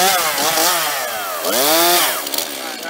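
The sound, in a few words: chainsaw cutting firewood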